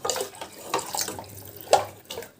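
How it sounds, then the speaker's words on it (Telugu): Water splashes and trickles into a pot in short bursts, close by, with a few louder gushes as it is poured. "నేను కొంచెం వాటర్ వేస్తాను"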